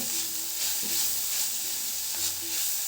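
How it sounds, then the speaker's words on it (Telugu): Spices fry with chaat masala and salt, sizzling steadily in a pan, with a continuous hiss and faint stirring scrapes, no voices. "ఇప్పుడు ఇదంతా బాగా ఫ్రై చేసుకోవాలి ఒక నిమిషం పాటు ఫ్రై చేసుకుంటే సరిపోతుంది"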